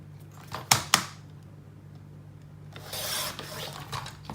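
A long paper tab for a Cricut mini album is trimmed: a couple of sharp, close snips come first, then after a quiet gap a softer, drawn-out rasping cut, with a faint low hum behind.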